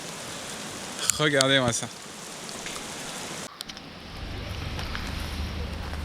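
Steady rain falls at the Milford Sound fjord in New Zealand, a soft continuous hiss with a low rumble joining later, while a person briefly speaks near the start.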